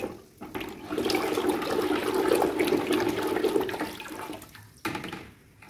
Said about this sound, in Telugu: యాసిడ్ వాటర్ ఫుల్గా మిక్స్ అవుతుంది